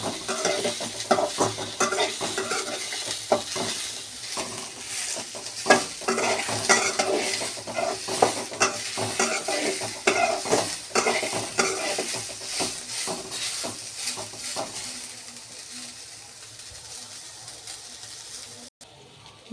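Spiced masala ingredients roasting in oil in a pan, stirred steadily with repeated scraping and clattering of a utensil against the pan over a continuous close sizzle, fading slightly near the end.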